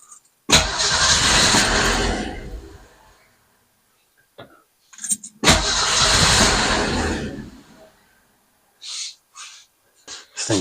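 A balky engine cranked after its fuel bowls are filled, sounding as two long, loud bursts of cranking and sputtering a few seconds apart, followed by short, scattered coughs and pops.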